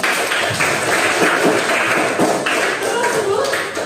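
A classroom of students claps together, brisk overlapping hand claps filling the room loudly and evenly for a few seconds.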